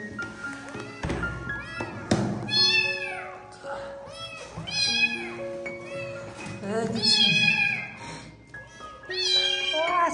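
Kittens meow repeatedly in high, wavering cries, with a person talking around them and a few soft taps and thuds in the background.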